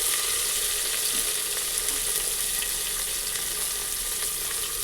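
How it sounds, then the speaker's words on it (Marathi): Finely chopped onion frying in hot oil tempering for khichdi, a loud, dense, steady sizzle that holds without a break from start to finish, close by with no voices over it. "ते फोडणीत टाकून झालं की लगेच बारीक चिरलेला कांदा"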